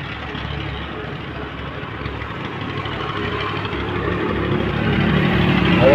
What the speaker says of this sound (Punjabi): ਥੱਲੋ ਸਟਾਰਟ ਆ, ਇੰਜਨ ਮਕੈਨੀਕਲ ਦੇ ਫਿੱਟ ਫਾਟ ਆ।